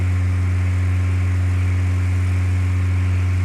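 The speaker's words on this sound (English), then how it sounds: "When you reach 100 knots, reduce engine RPM to maintain 100 knots." Steady propeller aircraft engine droning at cruise power in the Flight Simulator 2004 video game, a constant low hum with a strong tonal note and no variation, loud and alone with no talk.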